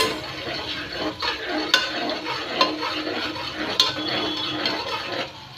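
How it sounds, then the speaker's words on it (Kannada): Food fries in a pan and is stirred with a metal utensil, a steady sizzle broken by sharp clinks and scrapes against the pan, close and fairly loud. "ಚೆಂದಾಗಿ ಫ್ರೈ ಆಗಬೇಕು."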